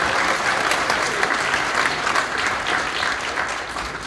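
A crowd at an eighth grade promotion and junior high awards night applauds a player: sustained, even clapping from many hands, fairly loud and unbroken across the whole stretch.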